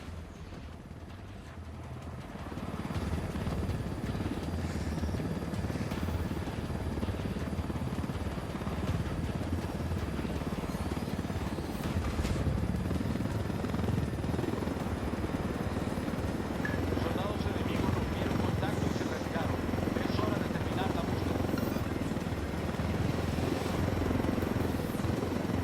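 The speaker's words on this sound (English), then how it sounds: "Let's take these choppers out." Helicopter rotors thrum as a constant dense roar of engine and blade noise in a Ghost Recon Wildlands combat mission set in Bolivia, loud throughout after a quieter start, with voices speaking underneath.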